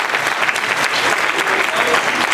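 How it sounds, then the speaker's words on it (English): Applause from guests at a high school banquet, sustained clapping from a roomful of people, fairly loud and continuous. "If we could give them a round of applause."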